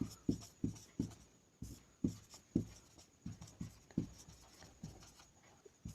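A pen scratches out notes on paper in quick, rhythmic strokes, each close, distinct scrape followed by brief pauses, with no other sound around it.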